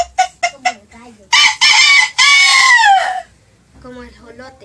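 A man gives a few quick clucks and then imitates a rooster with a loud, close, drawn-out crow, followed by a short spoken phrase.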